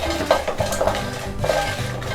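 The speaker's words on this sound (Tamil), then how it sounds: "இது வந்து 6 நீட்டு காஞ்ச மிளகாய் எடுத்துக்கிட்டோம். இதையும் நல்லா 2 நிமிஷம், ரொம்ப நேரம் இல்லைங்க, 2 நிமிஷம் வறுபட்டால் போதும்" Dry red chillies roasting in a pan for a chicken gravy, with a spoon or spatula scraping and stirring in short uneven strokes and light metallic clinks over a low sizzle, close by.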